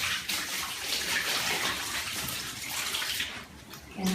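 Water is poured out onto a balcony floor for cleaning, a close rushing and splashing that swells and ebbs over a few seconds before easing off.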